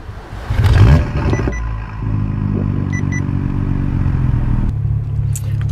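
A BMW with an MHD tune starts from cold: a loud cranking burst, then the engine settles into a steady, deep idle with a low burbling rumble, close and unaccompanied.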